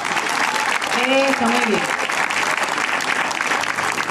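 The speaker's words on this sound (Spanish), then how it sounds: "le damos un aplauso fuerte" A crowd at an anniversary celebration applauds loudly and steadily, with sustained clapping throughout while someone speaks briefly over it.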